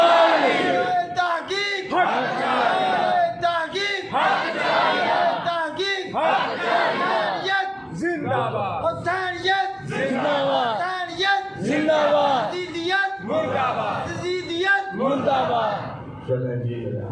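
Large crowd at a religious mehfil gathering in Bahadarpur shouting chanted Islamic slogans such as takbir and Haidri in loud repeated bursts, voices rising together in waves for the whole stretch.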